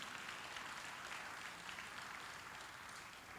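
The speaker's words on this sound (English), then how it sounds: "so a big round of applause for them." Audience at an economic summit gives a round of applause for volunteer organisers, continuous clapping heard at a distance, fairly faint and even throughout.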